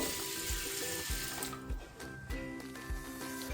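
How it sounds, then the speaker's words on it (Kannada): Tap water runs and splashes into a vessel of rice and lentils set to soak for dosa batter, a close, steady pour with rhythmic sloshing pulses and no one talking. "ಸೊ ಇದಕ್ಕೆ ನೀರು ಹಾಕ್ಬಿಟ್ಟು 8 ಅವರ್ ನೆನೆಸ್ತಾ ಇದ್ದೀನಿ ನಾನು"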